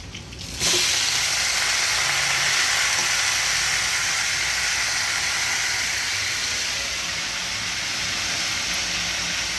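Rice drops into hot oil with fried garlic and sets off a sudden loud sizzle that holds steady and close for several seconds after a brief quiet start.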